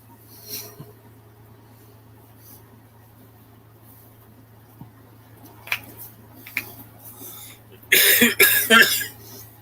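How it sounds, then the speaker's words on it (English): After a quiet stretch with a low hum, a person nearby breaks into a harsh burst of several rapid, loud coughs. "Sorry, it's this dumb cough that interrupts my talking."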